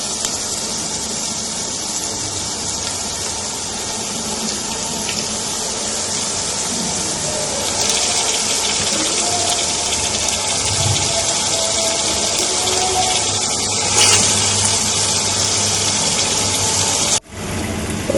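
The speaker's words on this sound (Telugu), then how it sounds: "ఇప్పుడు చింతపండు పులుసు పోసేసుకున్నాం" Tamarind juice pours steadily into a pot of fish pieces for Andhra-style fish curry, a continuous loud gushing splash that runs on without break and ends in a brief knock.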